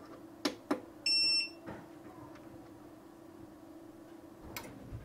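Short beeping from a Growatt solar inverter in warning mode: one steady high tone lasting a fraction of a second, after a couple of clicks. The rest is quiet room noise with faint knocks.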